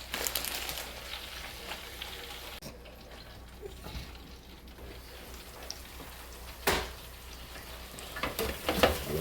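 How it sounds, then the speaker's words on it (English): French fries, steak fries among them, frying in hot oil, giving a faint, even crackling hiss with a few sharper pops and rustles, one of them briefly louder. "Let them fries cook real fast and get that pretty golden brown color to it."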